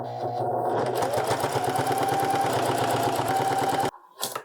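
A sewing machine stitches bias binding onto a spring coat, running in a steady fast rhythmic whir for about four seconds before stopping abruptly, followed by a brief small clatter.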